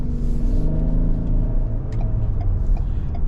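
A 2022 Ford Explorer Timberline with a 2.3-liter EcoBoost engine pulls out into road traffic, its engine rumbling and rising steadily in pitch as it accelerates, heard from inside the cabin with no talk.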